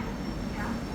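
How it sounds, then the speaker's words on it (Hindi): The Tejas Rajdhani Express rolls into platform 1 with a steady, loud rumble of wheels and carriages that holds throughout the short stretch. "तो अब ये आप प्लेटफॉर्म नंबर 1 पे आप देख सकते हो अराइव हो रही है।"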